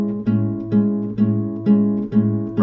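Bossa nova guitar pattern with a thumbed bass note repeated on beat one and plucked chords, five or six even strums in a steady loop, close and clear with no talking.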